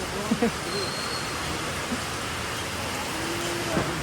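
Steady rain hisses evenly throughout, with a few brief, faint voice fragments surfacing now and then over the wash.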